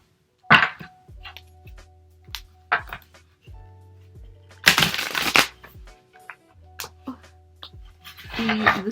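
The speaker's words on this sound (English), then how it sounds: "I'm just going to start shuffling the cards." Tarot cards from a large deck are handled and shuffled in short, uneven bursts of riffling and slapping, close up, with a low buzzing hum in between.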